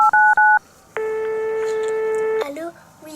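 A telephone number is dialed with clear touch-tone beeps: two short tones, then a long steady dial tone and a few more beeps, loud and close.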